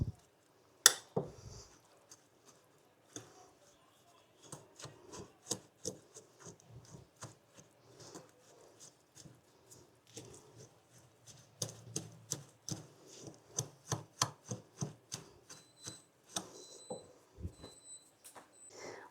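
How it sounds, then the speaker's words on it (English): ANZAC biscuit dough made with maple syrup is stirred in a bowl, producing quiet, irregular clacks and scrapes that grow busier toward the end, with no talking. "And then we're just going to mix this all up."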